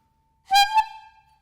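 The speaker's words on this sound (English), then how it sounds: "or for instance, a horn." A short horn blast used as a classroom noisemaker: one brief toot with a steady pitched tone and a slight second push, fading quickly into silence.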